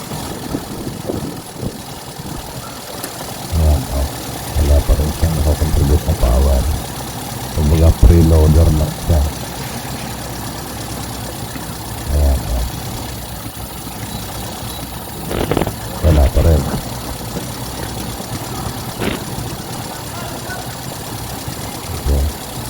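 A misfiring Toyota 4K engine that is hard to start and prone to stalling idles roughly, a steady low hum broken by irregular louder surges and stumbles over the whole stretch.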